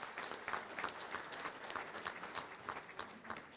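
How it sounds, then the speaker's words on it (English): Steady applause from a luncheon club audience greets Arkansas Attorney General Leslie Rutledge, a dense, even wash of clapping that carries on throughout without any talk over it. "Let's give her a round of applause."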